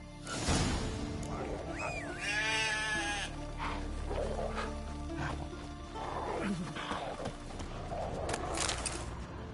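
Goats and sheep bleat in Witcher 3, a few wavering cries standing out against a busy game soundscape with other animal calls and ambient noise, moderately loud and without talk.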